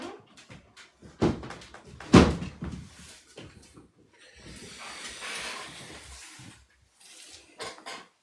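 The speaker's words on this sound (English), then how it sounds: "I'm shutting the door." A door is shut indoors with a few sharp knocks and thuds, one firm bang standing out, followed by a softer hissing rustle and scattered light clicks; fairly close and unaccompanied by speech.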